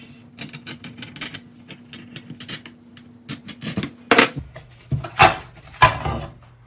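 A hand glass cutter, wetted with cutting oil, scores a piece of stained glass in a run of close, scratchy clicks and brief rasping bursts that grow louder toward the end, with no voices.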